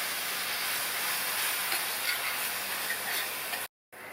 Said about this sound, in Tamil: இதில் கொஞ்சமாக மட்டும் தண்ணி சேர்த்து இதனுடைய பச்சை வாசனை போகிற அளவுக்கு வதக்கிக்கலாம்.